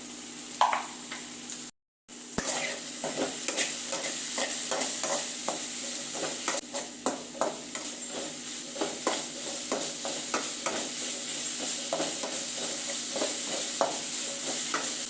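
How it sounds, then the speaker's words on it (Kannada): Tomato with salt, turmeric and spices frying in a pan for Maggi noodles, with a continuous close sizzle and repeated scraping stirs throughout and a momentary dropout early on. "ಟೊಮೊಟೊ ಚೆನ್ನಾಗಿ ಮೆತ್ತಗಾಗೋ ತನಕ ಹುರ್ಕೊಳ್ಳೋಣ"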